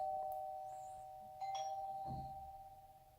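A Hikvision DS-KB6003 video doorbell sets off its indoor chime: a short electronic ding-dong tone heard mid-clip against a steady electrical hum, clear but not loud.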